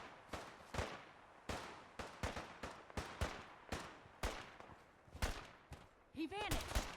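Gunfire in the post-apocalyptic video game Fallout 4: a dozen or so sharp, loud shots crack out in an irregular rhythm over seven seconds, with a burst of whining game effects near the end.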